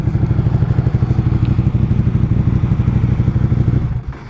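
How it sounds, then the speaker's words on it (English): A Ducati 899 motorcycle engine runs loud and close with a rough pulsing idle, and a brief clatter of the kickstand going down drops the sound near the end. "Getting the kickstand down."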